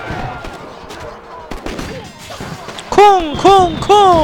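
Bombs exploding in a war strategy game: a series of loud booming blasts that build to three heavy detonations in quick succession, mixed with game effects and excited talking.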